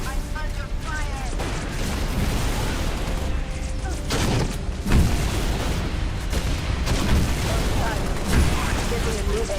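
Dense, continuous gunfire and explosive booms in a hill-assault video game, with heavy rolling bursts throughout and voices talking over the battle.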